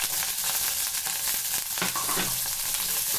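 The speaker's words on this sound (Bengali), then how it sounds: "কপিগুলো ভেজে নিচ্ছি।" Small pieces of boiled cauliflower fry in a wok, an even, close sizzle running throughout with brief stirring scrapes and no voices.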